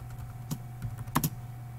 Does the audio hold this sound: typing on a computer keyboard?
yes